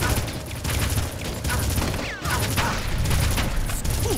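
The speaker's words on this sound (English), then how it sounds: "I couldn't exactly hear you from all the gunfire." Rapid bursts of gunfire in the video game Red Faction crackle continuously, dense overlapping shots with a brief lull midway, then the barrage resumes at steady loudness.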